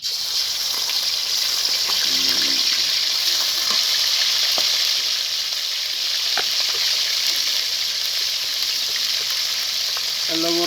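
Loud, steady sizzle of hot oil frying in a pan during outdoor village cooking, a continuous crackling hiss with a few soft clinks of stirring.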